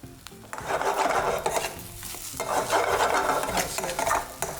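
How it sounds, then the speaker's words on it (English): A spatula scrapes and stirs beaten egg with spices in a hot pan over low gas for egg fried rice, giving close, loud rasping strokes over a soft sizzle in two long passes. "Mix up your egg. Mix up the spices."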